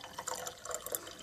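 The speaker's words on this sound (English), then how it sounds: "Always have to do the pour test" Water poured into a ceramic cup decorated with ilmenite, a brief soft trickle and splash lasting about a second, quiet and close.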